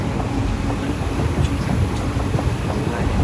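Steady rumble and clatter of a train at Aluva railway station, loud and continuous with faint rhythmic clicks over a constant low roar, heard alone throughout.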